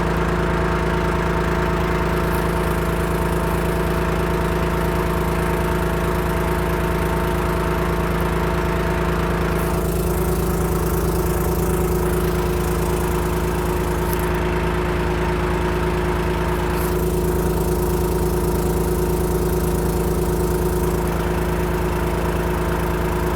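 A Mack R600 truck engine runs steadily throughout, with a deep, continuous diesel drone and a few surges in revving. It is loud and close, and no one speaks.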